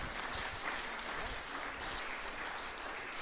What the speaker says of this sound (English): Would you please join me in giving a warm round of applause to Chris and Chris?